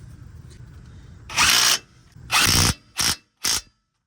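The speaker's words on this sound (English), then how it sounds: "As always, tighten them down with the impact wrench afterwards." Impact wrench tightening ball joint bolts on a Ford Excursion, heard as four loud mechanical bursts, two longer ones followed by two short rattling hits, against quiet workshop background with no talk.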